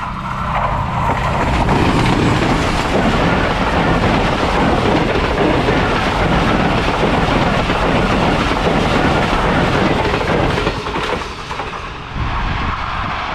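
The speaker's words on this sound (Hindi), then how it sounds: "वज़ीराबाद से चली है 39 अप जाफ़र एक्सप्रेस और नेक्स्ट स्टॉप करेगी गुजरात रेलवे स्टेशन पे" Jaffar Express passenger train led by a ZC20 diesel locomotive running through near Gujrat station in Pakistan, a loud continuous rumble with wheel clatter sustained throughout, easing slightly near the end.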